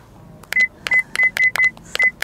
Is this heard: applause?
no